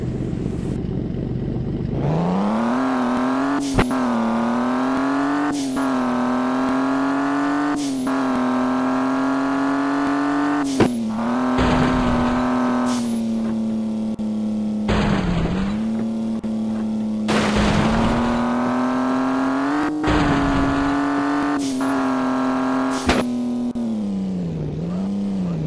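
Racing cars in the mobile game Mega Ramp Car Racing Stunt roar continuously and close, the engine note rising and dipping with repeated revving, punctuated by sharp clanks and impact bursts, with no talk.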